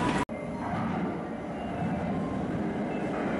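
A JR West local train in Ishikawa, Japan, rumbles steadily nearby, a low continuous drone of rail noise after a brief sharp click at the start.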